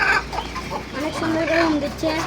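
Chickens on a farm cluck in short, close calls, with a person speaking alongside them.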